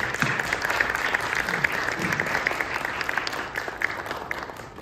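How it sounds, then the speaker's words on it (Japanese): Sustained, even applause from a seated audience welcoming a junior chamber president onto the stage at a Kyoto seminar, continuous and moderately loud throughout without speech. "皆様拍手を持ってお出迎えください"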